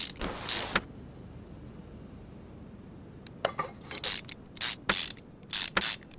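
A power ratchet in a car repair simulation game zips in repeated short bursts while tightening screws on an engine part, with a single burst first, a pause, then a rapid series of buzzing clicks.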